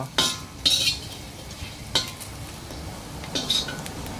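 Ingredients for grilled chicken pon dry-roasted in a pan, with repeated scraping and metallic clinks of a spatula against the pan at an irregular pace and a faint sizzle underneath.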